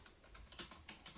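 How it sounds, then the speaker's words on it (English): Keys tapped on a computer keyboard in a call center, a quiet patter of soft clicks with a few sharper strokes spread across a short stretch, faint and close. "I love the typing."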